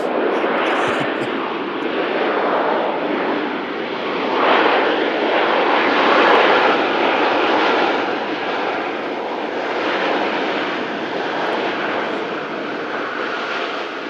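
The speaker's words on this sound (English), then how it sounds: "KLM in from Amsterdam with a racket." A KLM airliner arriving from Amsterdam, its loud 737 engines a sustained roaring rumble that swells in the middle and then holds steady, with no voices.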